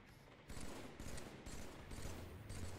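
Rapid bursts of gunfire from a Halo MCC multiplayer match, with sniper rifles among the weapons, rattling in repeated volleys across the whole stretch at a low, distant-sounding level.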